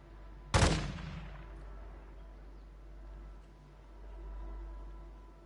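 A single sharp gunshot in the Call of Duty Warzone video game, a loud close crack with a decaying echo tail, followed by quiet low ambient rumble.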